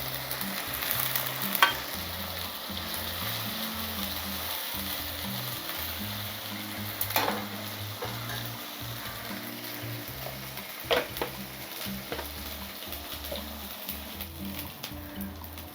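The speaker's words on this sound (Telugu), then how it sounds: "చూడండి మంచిగా అల్లం వేగాలి." Ginger sizzles steadily while frying in hot oil in a pan, with occasional stirring scrapes over a continuous close frying hiss; no one speaks.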